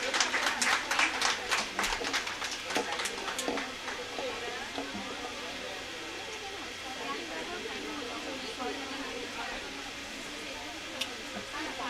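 An audience at an International Women's Day felicitation and prize ceremony gives a teacher a short burst of distinct, fairly sparse handclaps that fade out within a few seconds, leaving only quiet room hiss.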